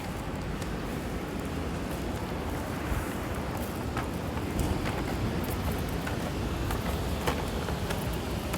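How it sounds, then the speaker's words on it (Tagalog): Steady rain falls outdoors in Japan, a dense, even hiss with scattered sharper drops throughout, fairly close and without talk. "Umuulan pa."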